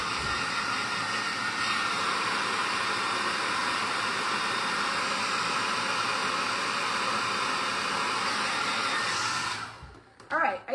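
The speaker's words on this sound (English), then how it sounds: "I'm just gonna hit it one more time with the hairdryer" A hair dryer blows a steady, loud hiss at close range over painted cardboard for an Easter basket, running unbroken for most of the clip before switching off abruptly, followed by brief handling noises.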